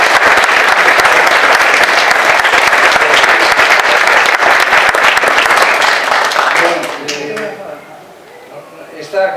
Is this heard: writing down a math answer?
no